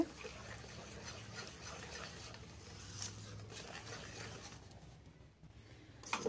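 Water poured into rice flour and stirred into a batter for chitoi pitha, a soft continuous wet swishing and trickle at close range, steady and fairly faint, with a brief clink at the end.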